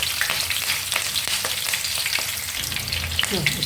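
A handful of green chillies fry in hot oil for an avalakki chuda, giving a steady close sizzle with a few light stirring knocks and no voices.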